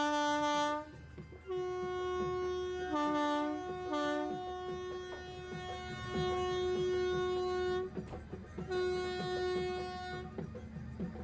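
An Amrit Bharat Express train horn sounds in long, loud tones as it departs Dibrugarh station, several blasts in a row over rumbling rail noise, with no speech.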